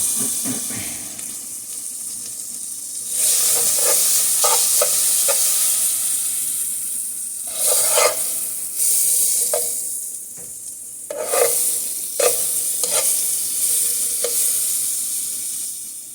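Shrimp frying in butter with red and yellow mini peppers in a pan, a steady sizzle and hiss running throughout while a utensil scrapes and stirs in irregular bursts, close up with no talking.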